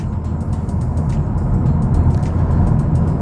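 A 2019 Honda Civic Type R drives in fourth gear, its engine a steady, loud low drone blended with road and tire roar heard from inside the cabin, with no talking.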